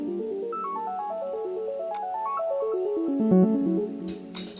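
FL Studio synthesizer notes set to a higher pitch range play quick stepping melodic runs that fall and climb in even succession, with bright electronic tones and a couple of sharp clicks.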